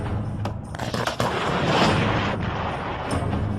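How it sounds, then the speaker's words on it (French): A heavy explosive blast on the Apollo 13 spacecraft with rumbling, crackling debris, preceded by a few sharp bangs; loud and close, no voices. "une explosion a eu lieu."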